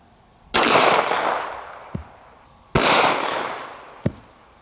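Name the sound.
gunshots from a Springfield 1911 .45 ACP pistol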